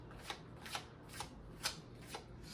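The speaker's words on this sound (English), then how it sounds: "And I'm going to just shuffle a few times and" Tarot card deck being shuffled by hand, five or six distinct riffling bursts in a fairly even rhythm, close and quiet against a low background hum.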